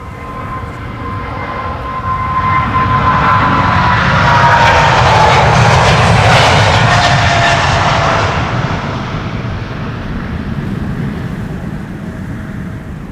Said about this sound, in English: This is KLM flight 661 to Houston, Texas, 777-200